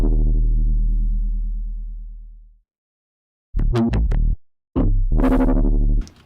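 Synth patches built in Current, first a decaying low tone that fades to silence, then short punchy hits from a chopped drum break with distorted, bright synth stabs, loud and alone.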